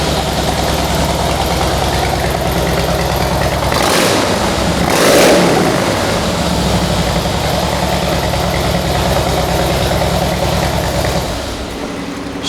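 Harley-Davidson Heritage Softail Classic FLSTC motorcycle engine idling with a steady, loud low rumble, briefly revved twice near the middle before settling back to idle.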